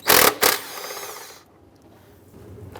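A bolt behind the oil fill cap on a 2002-2008 Dodge RAM is loosened with a power tool. Two loud, short mechanical bursts are followed by a fainter whir that fades away.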